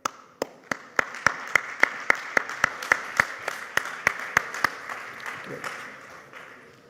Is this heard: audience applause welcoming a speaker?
yes